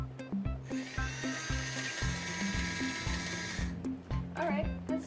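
Thomas and Friends toy engine with its upgraded motor running, a steady mechanical whirring buzz with rhythmic clicking of small gears, close and continuous, with a brief pause and some faint background voices.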